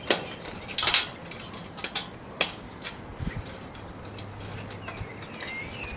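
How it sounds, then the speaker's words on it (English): Bolts on a roof rack basket fitted to a Land Cruiser are tightened with an Allen key and spanner, giving scattered metallic clicks and ratchet-like ticks, fairly faint and close, over quiet outdoor background. "you get your 13mm spanner to hold the bolt underneath,"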